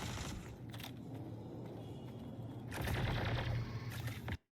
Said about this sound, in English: The turret gunner is also shooting at my ship